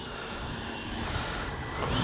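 A Freewing 90mm T-45 Goshawk RC jet, its 90mm ducted fan motor hot, whirs in a steady loud close-up roar that swells slightly toward the end.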